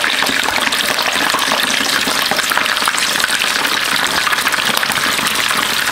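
Jamaican fried dumplings are lowered into hot oil in a DeLonghi Roto deep fryer, setting off loud, dense, continuous bubbling and crackling sizzle that stays steady throughout.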